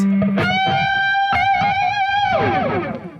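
Electric guitar bend run through a delay effect, distorted sustained notes overlapping with their repeats into a dense, chaotic wash that swells and slides down in pitch before trailing off.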